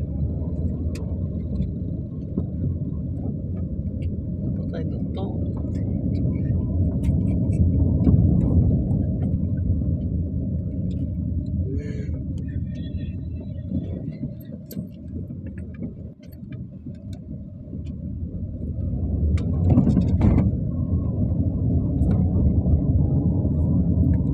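Road traffic in Hyderabad: a continuous low rumble of engines and passing vehicles with a dense, steady roar that swells and eases, heard close and loud with no clear speech over it.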